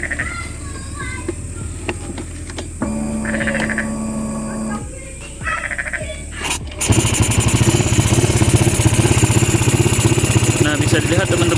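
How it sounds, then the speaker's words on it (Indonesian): An automatic scooter engine that has had oil loss and smoke from its breather hose starts midway, then settles into a loud, steady idle with an even low rumble. Someone speaks over the earlier part. "Saya hidupin motornya dulu."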